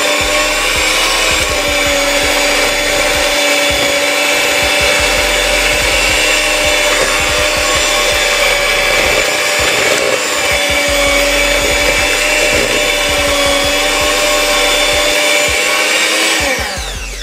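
Electric mixer creaming ingredients for a Jamaican black fruit cake, a loud steady whirring motor hum running continuously and close up before it winds down at the end, no voices.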